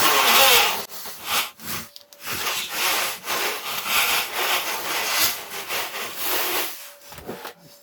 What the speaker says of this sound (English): I've just got this set up on the drill, not on the actual die grinder tool itself, so it's a bit quieter